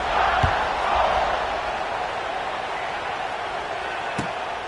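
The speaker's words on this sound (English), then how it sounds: "this crowd is buzzing after that last score" Stadium crowd in a college football video game, Louisville versus Alabama, buzzing after a score: a steady, dense roar of many voices that swells slightly at the start and then holds level, with a couple of faint thumps.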